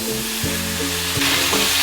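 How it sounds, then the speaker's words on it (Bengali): Mixed vegetables fry in oil in a pan for a Bengali tilapia curry, giving a steady close sizzle with a few stirring bumps and scrapes, with no voices. "সবজিগুলো আমি একটু ভেজে নেব ভালোভাবে।"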